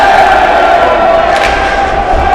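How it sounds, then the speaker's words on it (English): Hockey crowd at a Canadian Armed Forces men's semifinal, Petawawa against Halifax, roaring and shouting for a penalty, a loud sustained wall of voices filling the arena. "Crowd calling for a penalty."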